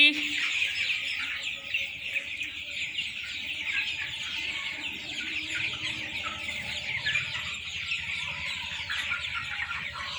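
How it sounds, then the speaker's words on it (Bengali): Sonali chickens cluck steadily in a dense, continuous flock chorus, close and fairly loud, with scattered brief calls layered through the whole stretch. "দেখতে পাচ্ছেন আমার মুরগি।"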